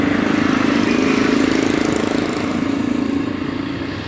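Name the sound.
motorbikes in street traffic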